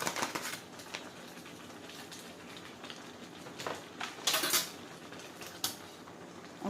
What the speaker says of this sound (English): we're going to stir this on up and get the seasoning right on in here